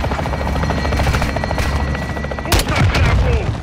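In Call of Duty: Modern Warfare II, a helicopter's steady rotor roar fills the air as it makes a gunfire run on a building, with sharp bursts of heavy fire cracking over the drone in the second half.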